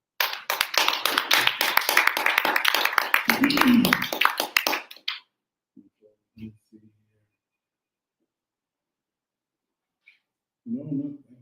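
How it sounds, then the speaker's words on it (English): A small open mic audience bursts into quick, dense clapping for about five seconds that stops abruptly, with a brief laugh-like voice within it, then near silence and a few faint voices. "clap if you make somebody beautiful"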